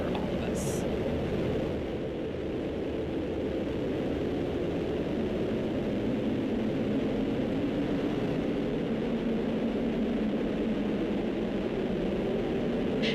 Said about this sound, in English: And liftoff of Starliner and Atlas V, carrying 2 American heroes, drawing a line to the stars for all of us.